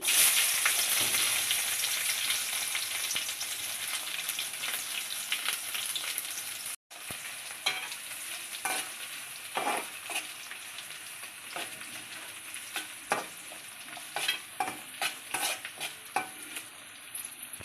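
Curry leaves and sliced onions crackle and sizzle in hot oil, a steady bright hiss punctuated by sharp pops and the scrape of a stirring spoon, with a brief break partway through, close and fairly loud, no voices.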